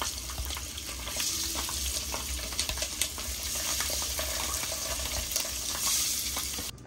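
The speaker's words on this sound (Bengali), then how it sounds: "ডিমগুলো লাল লাল করে ভাজা হয়ে গেছে, এখন এগুলো তুলে নিচ্ছে।" Duck eggs fry in a pan with a steady, close crackling sizzle that runs the whole time, along with faint stirring and scraping clatter.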